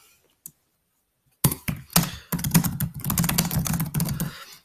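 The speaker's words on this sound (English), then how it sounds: "That's my bad typing." Fast, close typing on a computer keyboard, with a few separate key taps first and then a dense, steady run of loud clicks.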